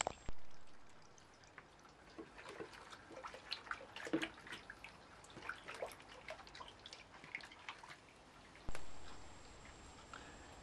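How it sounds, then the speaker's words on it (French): Ash lye water drains from a slightly tilted perforated bucket as faint, irregular drips and a light trickle, with a couple of louder splashes at the start and near the end. "Pour favoriser cet écoulement, il faut que le seau troué soit légèrement incliné."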